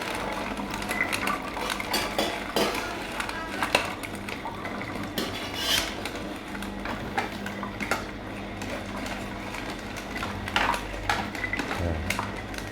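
A commercial Hurom H22 cold press juicer pressing pomegranates runs steadily, giving a continuous mechanical churn with scattered plastic clatter and clinks as fruit is fed in continuously.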